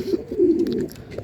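Pigeons in a loft cage give a low, rolling coo, one soft throaty phrase close by with faint rustling behind it.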